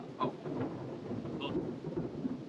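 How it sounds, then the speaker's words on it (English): Thunder rumbles low and steady through a storm, a broad continuous roar with a few brighter cracks, heard from a covered porch on a boat-life work day with rain likely adding texture. "little thunder going off here"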